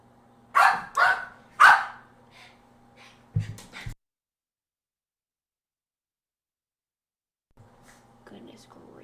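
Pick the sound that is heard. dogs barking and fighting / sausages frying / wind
dogs barking and fighting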